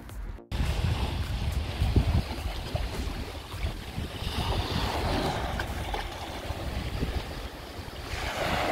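An Offshore Boats NZ 600HT motor boat runs with its Mercury 200 V6 outboard, a low rumbling drone buried under loud rushing water, surf and wind buffeting the microphone, continuous throughout after a brief dropout at the start.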